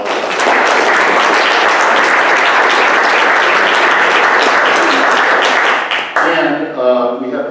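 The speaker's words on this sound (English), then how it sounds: "Please join me in applause." A symposium audience breaks into loud, dense applause that fills the hall for about six seconds, then fades as a voice begins speaking.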